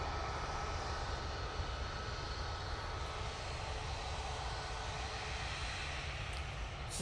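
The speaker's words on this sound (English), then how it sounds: "737 Max 8 now coming on to 23 left, taking full length." A Boeing 737 Max 8 lines up on runway 23 left at Manchester Airport for a full-length takeoff. A steady, faint, distant broadband jet roar holds evenly throughout, with no voices.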